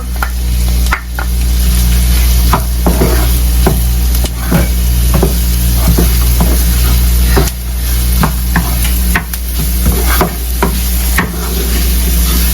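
Chopped onion sizzles loudly in a hot pan while being stir-fried for bihon rice noodles, with continuous frying hiss broken by repeated clacks and scrapes of a spatula stirring.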